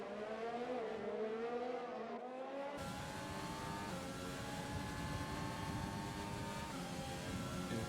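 F1 2020 race cars on a flying lap at the Azerbaijan Grand Prix, a high engine whine that shifts pitch, then a sudden louder roar as a car closes in, steady and continuous with no talk.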